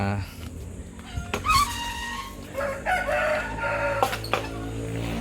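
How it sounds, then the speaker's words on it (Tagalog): Local chickens of native and upgraded native breeds make clucks and a rooster-like crow nearby, the calls rising over a person talking throughout. "mga local chickens po natin"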